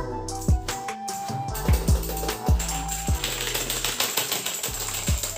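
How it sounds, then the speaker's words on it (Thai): Mechanical keyboard keys clicking and clacking at a gaming desk setup, a run of sharp, close, irregular taps over a steady background hum. "บอกได้คำเดียวเลยครับว่าเสียงคีย์บอร์ดตัวนี้เนี่ยถูกใจหลายๆนะครับผมเสียงป๊อกแป๊กเลย"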